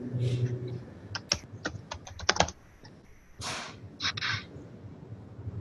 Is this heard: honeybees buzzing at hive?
no